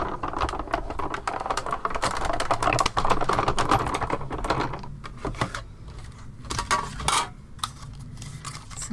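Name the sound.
electronic papercraft cutting machine cutting paper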